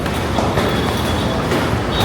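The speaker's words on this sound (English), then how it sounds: "Now I need to get on a tram." A tram pulls in at a stop in Russia with a loud, steady rumble of wheels on rail and a thin high whine running through it, heard up close.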